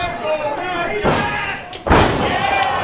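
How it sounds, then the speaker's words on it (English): A wrestler's running shooting star press crashes onto the canvas of a wrestling ring at a live match, two heavy thuds about a second apart, the second louder, with commentary and a faint crowd murmur throughout. "Nice running shooting star from Bailey"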